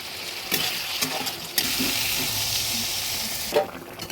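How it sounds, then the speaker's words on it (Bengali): A fish curry of katla with potatoes and tomatoes is stirred in a hot pan, a steady close sizzle broken by a few sharp scrapes and clinks of the spoon against the pan. "ভালোভাবে নেড়ে দিচ্ছি।"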